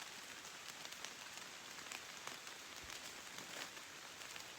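Steady rain pours down outdoors, a close, continuous hiss of drops hitting a surface with occasional sharper taps, unbroken throughout and not masked by any voices.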